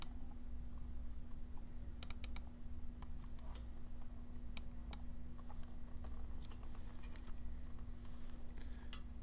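Clicks from a computer mouse button, a scattered handful of sharp, faint ticks spread irregularly over a steady low electrical hum.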